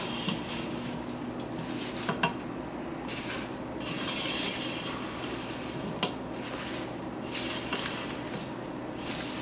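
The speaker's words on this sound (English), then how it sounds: "We're going to put this on medium heat and stir it constantly until all of that sugar is dissolved." A spoon stirs peaches and sugar in a pot over medium heat for an old-fashioned peach cobbler, with a soft sizzle and occasional scrapes and knocks against the pot. No one speaks.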